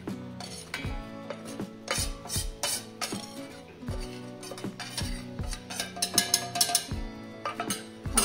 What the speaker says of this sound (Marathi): आता हे मी ते मिक्सरच्या भांड्यात टाकून घेते।